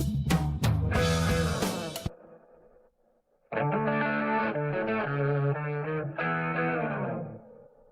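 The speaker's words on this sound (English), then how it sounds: "Notice the reverb sounds complete at the end of it, and the reverb at the end of the vocal lines." Heavily processed, reverb-drenched sung vocals in a song, two phrases separated by a near-silent gap, each tail washing out with lingering echo and distortion.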